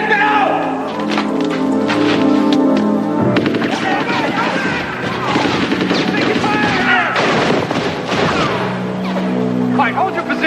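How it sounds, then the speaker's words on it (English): Automatic gunfire erupts in rapid, sharp bursts that blend into a dense, continuous clatter, mixed with raised voices and shouting. "That's automatic gunfire."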